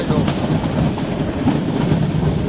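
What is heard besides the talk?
train running through forest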